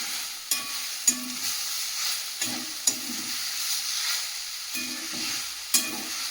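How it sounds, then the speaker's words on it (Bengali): Water spinach frying with potato in a pan gives a soft, close sizzle broken by repeated stirring scrapes and clanks of a spatula, moderately loud and steady throughout. "আলু দিয়ে কলমি শাক ভাজা"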